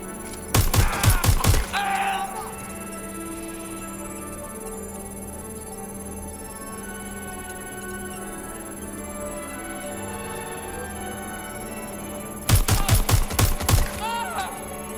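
A deployed turret fires in the video game Watch Dogs: Legion as two brief rapid bursts of automatic gunfire, one near the start and one near the end. A steady game ambience hum fills the space between them.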